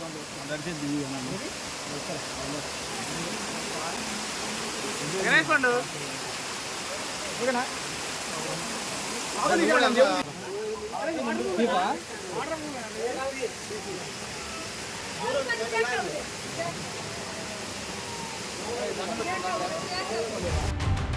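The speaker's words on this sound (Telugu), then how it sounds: "నీళ్లు చూడండి పైనుంచి ఎలా జలపాతంలా పడుతున్నాయో." Water pours down like a waterfall from a pipeline at the Gubbala Mangamma temple, a constant rushing hiss throughout, with voices talking over it now and then.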